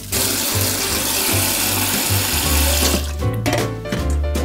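Tap water gushing loudly into a sink to soak rice cakes for Korean tteokguk, a steady close rush of water with slight changes in tone near the end.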